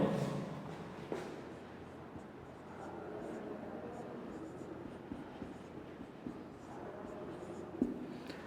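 Chalk or marker scratches across a board during a chemistry lesson, faint intermittent strokes and taps under a teacher's quiet talking.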